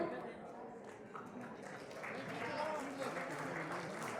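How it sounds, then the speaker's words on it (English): Audience applause at a pink e-rickshaw launch event, a steady wash of clapping from a crowd that swells slightly toward the end, with a voice speaking over it. "keep the applause going on"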